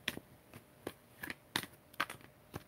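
Tarot cards being shuffled by hand during a love reading, giving a string of brief, crisp riffles and soft slaps in irregular bursts, close and fairly quiet with no voice.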